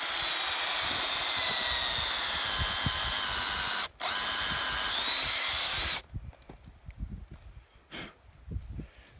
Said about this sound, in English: take a 7/16 drill bit, drill through the bark and into the heartwood of the tree